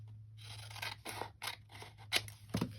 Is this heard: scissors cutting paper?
yes